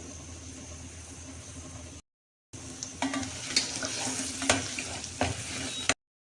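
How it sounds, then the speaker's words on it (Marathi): A spice masala with red chili powder, coriander powder and homemade garam masala sautés in a pan for a curry, a steady sizzle with scattered scraping stirs after a brief silent gap, no talking. "मसाला खूप छान परतला गेला आहे"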